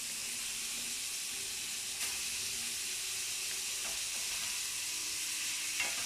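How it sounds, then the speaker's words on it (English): Pork chops sear in a hot pan, a steady, even hiss of sizzling fat with a couple of faint clicks, moderately quiet and uninterrupted by voices. "Just let that sear."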